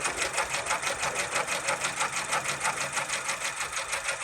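An embroidery machine stitches out a KC Fitness logo in a fast, steady, even rhythm of rapid needle strokes, continuous and moderately loud with no voices.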